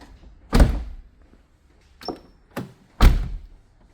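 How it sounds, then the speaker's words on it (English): The door of a Porsche 996 Turbo shuts with a solid thunk, followed by a softer thump and two more heavy closes, each crisp and near in a quiet space. "close the door"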